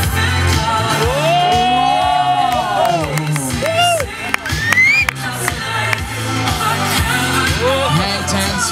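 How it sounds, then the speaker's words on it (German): Spectators at the Paderborn BBQ freestyle skateboard contest cheer, whoop and shout for a rider's run, with a loud amplified voice and music threading through the steady crowd noise. "Komm schon, der Applaus für Tobias Barmacher"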